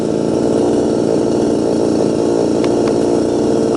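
A 2-stroke chainsaw running on a 25:1 fuel mix with a .325 pitch chain and 7-tooth sprocket, heard close and loud as a steady buzzing drone with a couple of brief sharp clicks near the end.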